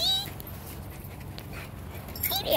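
A dog whimpers and yips in thin, high whines, heard briefly at the start and again near the end over a steady hiss of background noise.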